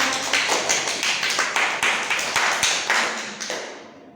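Students clap together in a steady, even beat, about eight sharp claps in a row that gradually fade out.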